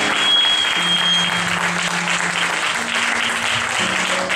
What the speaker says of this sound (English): Clap your hands and give God praise tonight.